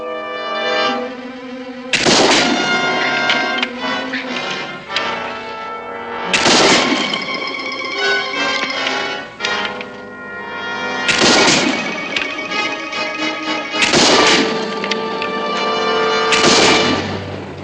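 Several loud rifle shots ring out in separated bursts, each a sharp crack followed by a long ringing tail, with a musical score playing underneath.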